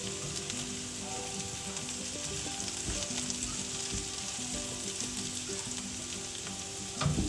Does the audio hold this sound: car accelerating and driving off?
no